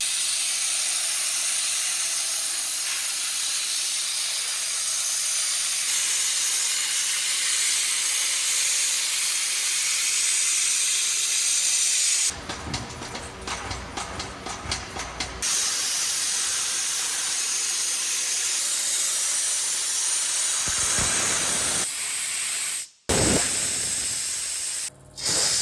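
Pot sandblaster blasting the undercarriage of a 1972 Toyota Corolla: a loud, steady rushing hiss of abrasive and air that runs almost unbroken, with a short rougher stretch and brief cut-outs near the end.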